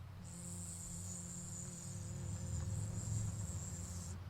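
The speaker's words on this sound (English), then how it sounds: "It's closer, it's coming, it's buzzing, it's humming. A bee!" A steady high insect buzz, presented as a honeybee near wild flowers at a farm, holds as one continuous drone for a few seconds over a low outdoor rumble, with no talking.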